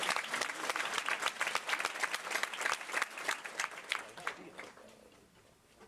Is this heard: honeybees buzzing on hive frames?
no